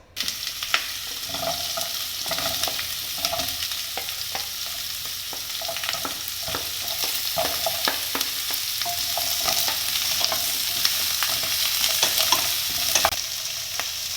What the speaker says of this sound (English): Once the oil is nice and hot, I am going to add all the ingredients one by one, starting from onions, followed by tomatoes